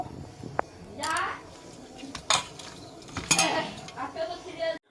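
Pabda fish being mixed with turmeric and salt in a bowl, heard as scattered clinks and rubbing scrapes against the bowl, with faint background voices.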